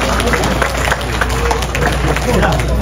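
Loud, continuous applause from a gathered crowd at a Ramayana katha devotional event, dense clapping with a low steady hum beneath and some crowd noise mixed in.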